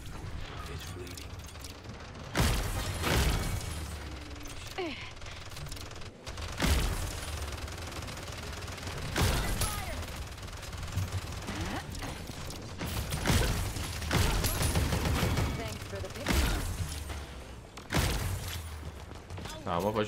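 Gunfire in the Paladins video game, with repeated bursts of sharp shots and mechanical clatter rising and falling throughout, while a player talks excitedly over the action.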